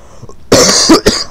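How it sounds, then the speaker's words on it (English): A close, loud cough bursts out twice in quick succession, harsh and throaty, with no talking around it. "I'll try and cover the mic every time I cough"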